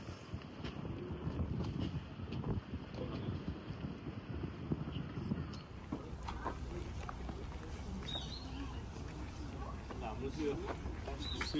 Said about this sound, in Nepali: यहाँ चाहिँ पुरा खतरा हावा चलिरहेको छ